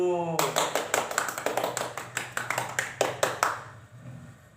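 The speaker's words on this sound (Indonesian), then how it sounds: "tepuk tangan dulu Bu" A group of women in a training session claps in unison, about a dozen sharp, evenly spaced claps right after a brief spoken voice, then fading out at the end.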